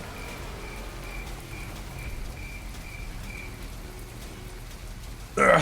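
A crickets-chirping sound effect used to mark boredom, a faint, evenly repeated high chirp over a soft rain-like hiss, ending in a brief louder noise.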